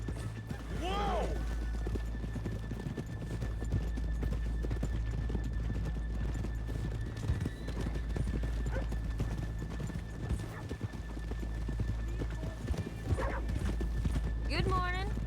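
Horses' hooves clip-clop steadily throughout, with a couple of whinnies, over a low background hum and occasional voices, in the game Red Dead Redemption 2.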